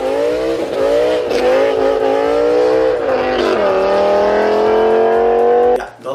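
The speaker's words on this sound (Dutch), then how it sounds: "Nou, die auto die klinkt geweldig." A car engine runs loud and close, its steady drone rising in pitch as it revs, then dropping and climbing again before cutting off near the end.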